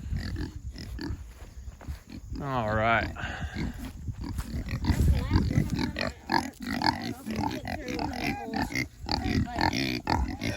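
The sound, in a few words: Kunekune pigs being herded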